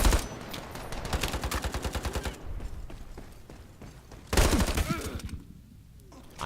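A Vector submachine gun fires in the video game Ironsight in two rapid bursts, the first a long fast rattle of evenly spaced shots, the second shorter and louder, with a quiet gap between.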